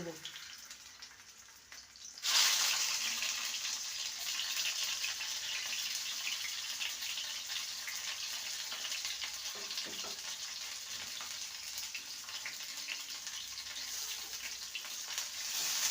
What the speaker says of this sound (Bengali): করলাগুলোকে ভেজে নেব হালকা সোনালি রং ধরলে